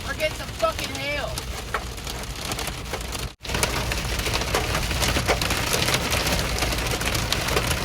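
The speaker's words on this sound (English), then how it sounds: "We're getting some fucking hail." Heavy rain and hail drum steadily on a car during a storm chase, a dense, loud, continuous patter with sharper impacts, briefly cut off before resuming just as hard, with faint voice-like sounds early on.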